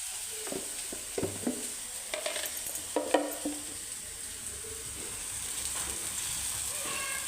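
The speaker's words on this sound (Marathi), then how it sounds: "तर तेलामध्ये चांगला मसाला भाजून घेऊया" Masala roasting in hot oil, a steady sizzle with scraping stirs and clacks of a spatula against the pan in the first half, then a smooth continuous hiss.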